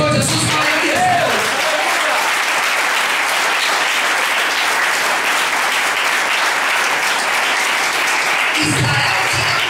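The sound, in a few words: church congregation applauding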